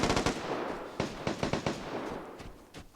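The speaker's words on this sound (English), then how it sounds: "The rhythm of those gunshots told me that there's 3 people shooting at each other." Gunfire in a three-way firefight in the video game Vigor, in a forest setting: bursts and single shots from several distant weapons overlap in irregular rhythm, some sharper and closer, others faint.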